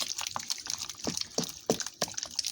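Shrimp in an egg white marinade is stirred, making close, quiet wet squelches and clicks in irregular bursts, with no steady background.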